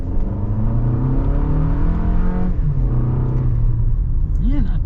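A 2025 Toyota RAV4 Limited engine accelerates with a rising hum and whir from inside the cabin, pitch climbing steadily then dropping briefly before climbing again, with a voice heard over it.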